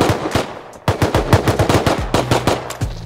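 Rapid bursts of automatic gunfire in the survival video game Rust, loud and close, with short pauses between volleys.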